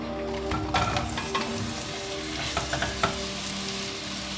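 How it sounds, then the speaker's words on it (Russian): Chopped onion frying in vegetable oil for a Georgian ajapsandali vegetable stew, giving a steady close crackling sizzle with a few louder pops and stirring clatters, and no voices. "Пока лук начал пассироваться"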